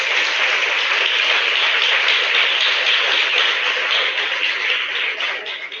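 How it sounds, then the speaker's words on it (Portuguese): A church congregation at a celebration service applauds in a steady, dense wash of clapping that holds evenly for several seconds before easing slightly at the end, with no voices standing out. "Eu queria que você adorasse ao Senhor com uma salva de palmas"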